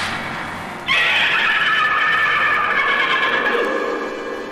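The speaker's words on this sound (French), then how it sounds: "Zorro galopa vers la ville, entraînant Monastario ligoté sur son cheval." A horse lets out a long, loud whinny that suddenly starts and slowly fades, with faint hoofbeats under it.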